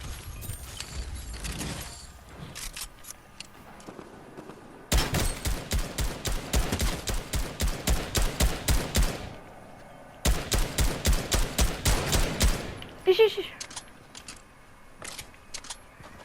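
Gunfire in a video game arena match comes as two long, loud bursts of rapid automatic shots, framed by quieter scattered single shots and clicks.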